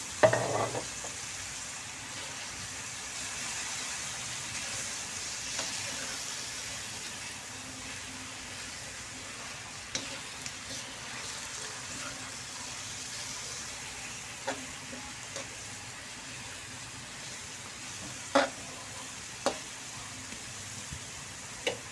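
Chicken caldereta sizzles steadily in a pan and is stirred now and then, with a constant faint frying hiss and a few sharp clinks of a utensil against the pan.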